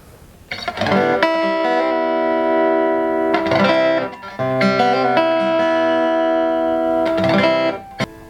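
Electric guitar strummed in a few bright, sustained chords through a cheap small practice amp with built-in overdrive, with short pauses between strums and a slightly sharp edge.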